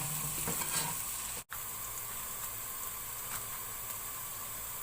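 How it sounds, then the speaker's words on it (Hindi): Spinach and potatoes fry in a pan with a steady, close sizzle and hiss, broken by one brief dropout; no one speaks. "अब इसको मैं थोड़ी देर फ्राई कर लूँगी"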